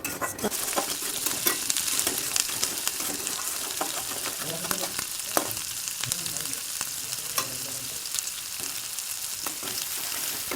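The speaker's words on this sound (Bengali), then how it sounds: "এর মধ্যে দেখো চিনি লবণ দিয়ে দিলাম দিয়ে কষতে থাকবো" Spices fried with sugar and salt over a low gas flame for a pointed gourd dish: continuous close sizzling with irregular scrapes and taps of the stirring spoon.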